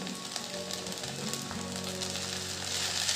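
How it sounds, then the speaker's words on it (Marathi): Sabudana and crushed peanut powder sautéing in ghee for a sweet fasting khichdi: a soft, even crackling sizzle continues throughout at moderate volume, without any voices. "साबुदाणा व दाण्याची कूट तुपात छान परतून झाले आहे"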